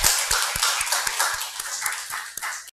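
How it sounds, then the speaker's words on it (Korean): An audience at a large worship service in Seoul breaks into applause: a dense clatter of many hands clapping, fairly close, with sharp individual claps standing out before it cuts off abruptly. "박수 한번 주시죠."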